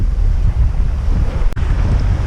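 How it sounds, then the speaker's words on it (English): Strong wind, around 20 knots, roars steadily across the microphone aboard a sailboat at sea on a solo passage from Scotland to France, with wave and hull noise mixed into the constant rushing gusts and no voices. "So there's 20 knots of true wind, about 14 knots of apparent"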